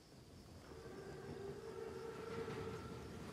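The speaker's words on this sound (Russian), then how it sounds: "Это бронепоезд." Armored train in Call of Duty: WWII, a steady low rumble with a sustained droning tone, like a whistle or horn, held across most of the moment at moderate loudness with no voices.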